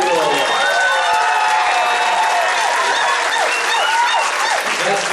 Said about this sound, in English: Let me hear a round of applause for Merrily.